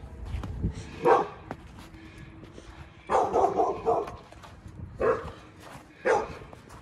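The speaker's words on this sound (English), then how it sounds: "Oh, he's barking." A dog barks in short separate bursts: a single bark, then a longer run of several barks, then two more isolated barks, fairly close and loud over a quiet background.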